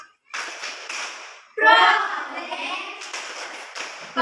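A class of schoolchildren claps out the rhythmic Tepuk P5 clapping chant together, with sharp bursts of hand claps in a patterned sequence close by in a classroom.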